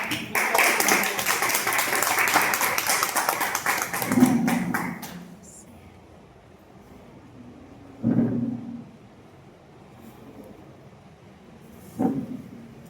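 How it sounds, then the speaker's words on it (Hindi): An indoor audience gives a hearty round of applause, loud dense clapping for about five seconds, followed by a quiet stretch with two brief later bursts of claps or knocks. "जोरदार ताली के साथ"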